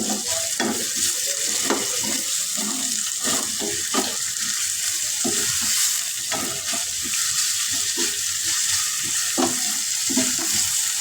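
Sliced onion rounds fry in a pan for a potato snack, giving a steady, close sizzle with scraping stir strokes throughout and no talking.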